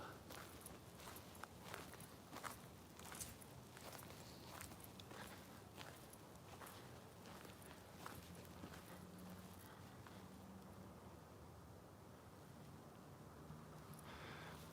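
Footsteps crunch along steadily at a walking pace in a quiet, faint setting, the regular treads fading toward the end with no voices over them.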